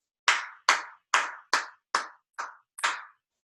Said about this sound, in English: I clap first, then you clap. Here I go.